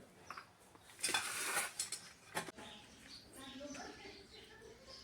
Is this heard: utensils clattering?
yes